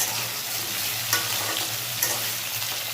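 Taro fries in a pan with tomato and green chillies, a dense, even hiss of sizzling oil with a couple of faint clinks of stirring, close and steady.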